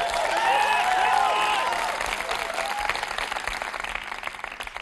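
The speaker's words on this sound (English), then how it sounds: "Give yourself a round of applause." A crowd applauding steadily at a CalArts animation event, with some cheers and whoops at first, the clapping dense and continuous before gradually thinning out.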